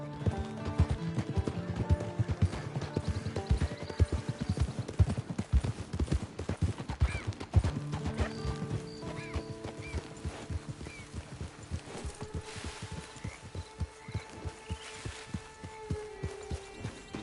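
Horse hooves clip-clop at a steady walking rhythm in a PS5 video game, close and fairly loud, with game music and ambient tones layered underneath.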